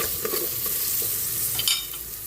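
Pinapaitan ingredients sauté in a pot, a close, steady frying sizzle with light scraping and stirring taps running throughout.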